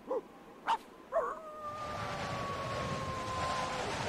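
A character in the Skulls of the Toltecs adventure game makes a few short, yelping dog-like calls by voice, a voice imitating a dog, followed by a sustained whistling tone over a steady hiss of background noise.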